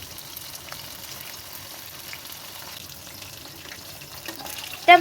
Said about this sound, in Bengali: তারপর কড়াই একটু তেল গরম করে ওই সব কাঁকরোলগুলোকে একে একে করে ভেজে নেব